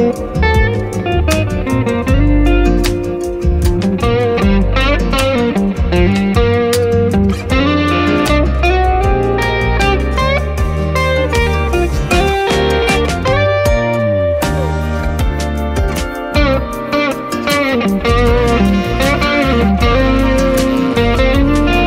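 Electric guitar played through a Walrus Audio Julia chorus pedal on a pedalboard, a dense, loud, continuous strummed and picked passage with a shimmering wide tone, no talking over it.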